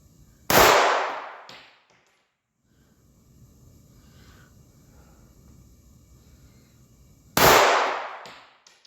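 A Ruger EC9s pistol fires two sharp, loud shots several seconds apart at an outdoor target range, each crack ringing out briefly, with a faint hiss and quiet background between.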